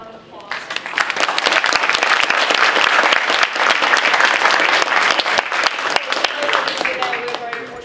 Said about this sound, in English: let's just give John another round of applause